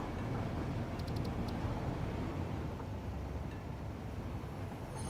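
A train passes by in the factory-building game Satisfactory, a steady broadband rumble and rushing roar filling the clip at moderate level, with a few faint high electronic beeps near the start.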